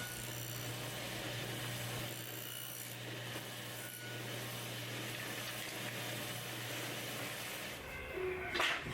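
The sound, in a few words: table saw with flat top blade cutting dado in wood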